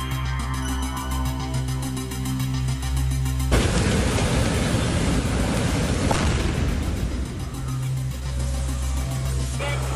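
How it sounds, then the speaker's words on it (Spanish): A minibus explodes on a street, a sudden loud boom bursting in over steady traffic noise, followed by several seconds of roaring, crackling broadband rumble before the hum returns. "De inmediato se ocasiona una explosión."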